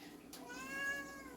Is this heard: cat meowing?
yes